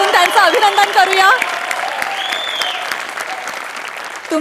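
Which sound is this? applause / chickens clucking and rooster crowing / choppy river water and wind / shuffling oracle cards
applause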